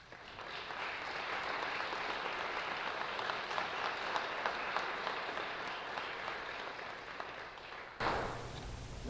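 Audience at a 280th anniversary celebration applauds steadily in a sustained, even wash of clapping from a large crowd, heard from a moderate distance, with a brief sharp shift near the end.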